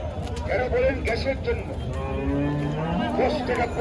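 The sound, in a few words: bullocks mooing at a cattle market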